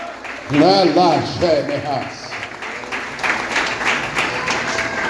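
A church congregation at a family service breaks into applause that swells after a voice rings out at the start, the clapping continuing as a steady patter.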